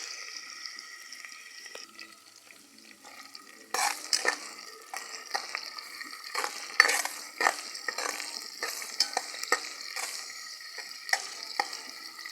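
Garlic and onion fry in a pan: a quiet hiss that jumps partway through into a louder, crackling sizzle with scattered pops and the occasional scrape of a utensil.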